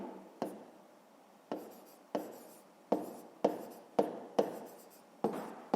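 Chalk or marker strokes on a board during a fifth-grade math lesson, about eight short scratchy writing strokes in an uneven rhythm, close and moderately loud with no voices.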